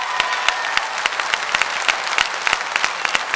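An audience at a Tamil debate show applauding, a dense, steady burst of many hands clapping close and loud, with no talk over it.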